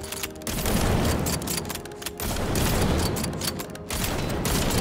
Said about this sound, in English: Now, our last weapon and my favorite sniper in the game, the L115.